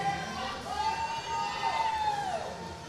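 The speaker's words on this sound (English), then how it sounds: "Crowd is getting behind her. I love hearing that." Spectators at a powerlifting competition cheer and shout encouragement for a female lifter attempting a heavy lift, a sustained crowd roar with rising voices, close and fairly loud throughout.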